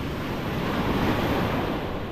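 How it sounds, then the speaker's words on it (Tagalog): Sea waves wash and surge steadily, a broad roaring hiss of surf mixed with wind noise, no voices. "Pero may alon oh."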